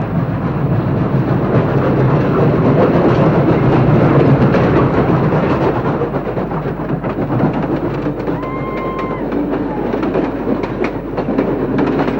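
A locomotive rumbles steadily along the rails with a loud, continuous roar and rattling, a faint whistle-like tone rising briefly near the end, during a 1985 run between Newcastle and Maitland.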